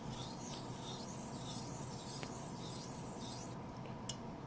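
A straight razor strokes back and forth on a coticule hone stone, a steady soft rasping scrape with a gritty tooth, repeating in even passes close up and alone.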